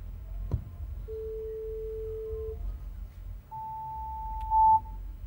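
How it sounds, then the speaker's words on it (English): Sine wave test tone examples from a music mixing seminar: two pure steady tones, first a lower one held about a second and a half, then a higher one held longer, over a faint background hum. "So I'll just play the sine wave example again."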